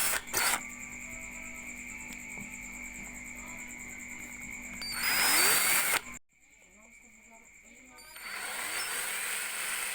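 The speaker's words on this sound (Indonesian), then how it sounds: "Sekarang kita mulai lubangin menggunakan bor." A power drill whines steadily while drilling holes in a metal can, rising to a louder burst, then cuts off briefly before spinning up again, close by and dominant.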